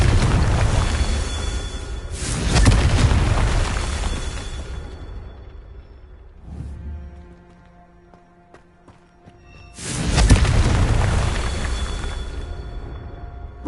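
Confringo fire spell blasts in Hogwarts Legacy: two loud, booming explosions several seconds apart, each with a crackling tail, separated by a quieter stretch with a smaller thud.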